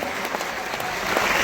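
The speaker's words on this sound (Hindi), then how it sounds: "एक बार जोरदार ताली" An audience at a student felicitation ceremony claps enthusiastically, a dense, loud burst of many hands applauding together that holds steady and swells slightly at the end.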